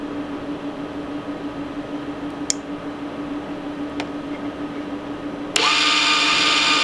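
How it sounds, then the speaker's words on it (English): A power drill with a brushless motor, driven by an MP6530 three-phase pre-driver, hums steadily at low level with a couple of faint clicks, then spins up abruptly into a louder, brighter whir near the end. "Here we have the MP6530 connected to a power drill with a brushless motor."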